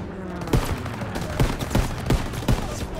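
Gunfire from Call of Duty: WW2, a World War II shooter: a steady crackle of rifle and machine-gun fire punctuated by five or six heavier, sharp shots spaced about half a second apart, loud and close over constant battlefield noise.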